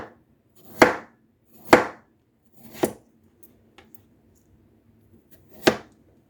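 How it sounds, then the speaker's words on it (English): A knife slices through small potatoes on a cutting board in a home kitchen, giving four crisp chopping strikes at uneven intervals with quiet pauses between, close and clear with no talk. "Now we need 3 or 4 potatoes sliced. I'm going to use 4, but they're not very big. And I'm going to slice them about yay big."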